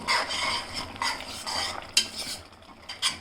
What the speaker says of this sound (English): now give it a stir. See how nicely the dal is cooked.